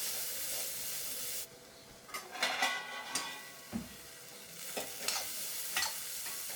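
Raw papaya stir-fry for a Kerala thoran being stirred in a pan: a soft steady sizzle broken by a series of irregular scraping and clinking strokes of a spoon against the pan, with no talking.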